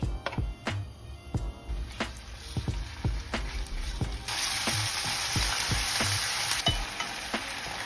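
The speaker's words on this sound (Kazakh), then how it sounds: "Табаға өсімдік не болмаса зәйтүн майын құйып, 3 минуттай қуырып аламыз." Chicken pieces frying in vegetable or olive oil in a pan, a continuous crackling sizzle with sharp sputtering pops, growing denser and louder partway through, heard up close.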